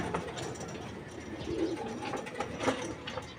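Saddle pigeons coo softly in a few low, murmuring bursts over a steady background hum, close by and fairly quiet.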